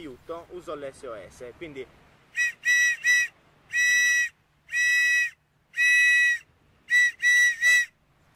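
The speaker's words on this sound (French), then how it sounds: "On fait le SOS avec le sifflet, comme ça on transmet son appel à l'aide." A brief bit of talk, then a loud survival whistle blasts an SOS distress signal in a pattern of three short, three long and three short, close and shrill, in Sardinian coastal marsh.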